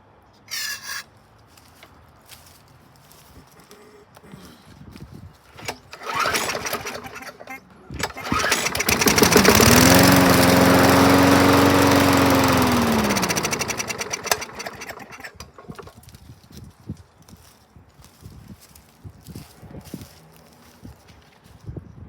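A 2011 Yard Machine walk-behind lawn mower engine starts and runs loudly for several seconds with a rising then falling pitch before cutting off, surrounded by quieter handling clatter and rustling.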